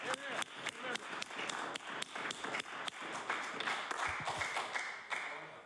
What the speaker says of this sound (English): the government side can keep clapping